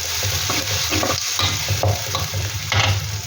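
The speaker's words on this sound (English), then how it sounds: "Then I'm going to add the ginger, garlic and shallot paste" Ginger, garlic and shallot paste sizzles and fries in a pan for chicken kurma, with steady crackling and intermittent stirring scrapes, close and continuous without talk.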